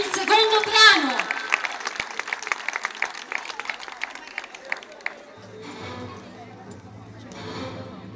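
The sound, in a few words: audience applause for majorette group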